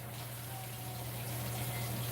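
Hot water rushes steadily from a tap fed by a tankless water heater, a constant faint gushing flow with a low hum beneath it.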